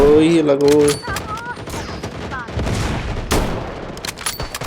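Gunfire in a battle royale video game, bursts of rapid shots and a heavier blast, mixed with game sound effects and a player talking over the action.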